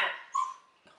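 A pet dog at home whimpers in a short, faint burst, a thin high whine lasting under a second with a small breathy sound at the end.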